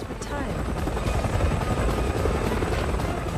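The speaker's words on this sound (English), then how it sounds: "we'll have to fight some enemy helicopters" Enemy helicopters in Resident Evil 6 on PS3 during Ada's campaign in the streets of Tachi: a continuous, loud rotor and engine drone with rumbling low end, steady throughout with gunfire-like clutter mixed in.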